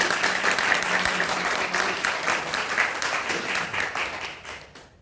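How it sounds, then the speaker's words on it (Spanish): Congregation applauding God during a church service at Templo Unción, a dense, steady wash of many hands clapping throughout, fairly loud and fading away at the very end. "¿Le quiere dar ese aplauso al Señor?"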